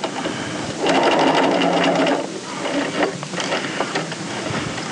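A sewing machine runs understitching along a garment facing, with a close, steady mechanical whir for a second or so, then lighter, uneven stitching clatter. No one speaks.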